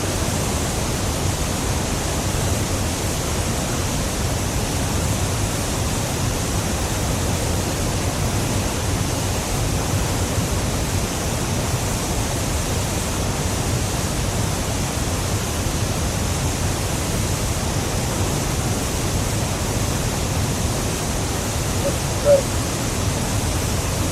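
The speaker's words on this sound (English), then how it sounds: "one of the most spectacular waterfalls in the Big South Fork" A steady, broad roar of a waterfall falling inside a cave in the Big South Fork fills the space, constant and loud with no change in rhythm and no voices.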